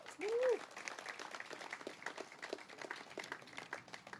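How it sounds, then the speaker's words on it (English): A crowd at a regatta press conference applauds steadily, a dense wash of clapping, with a brief whoop at the start. "You should applaud yourselves."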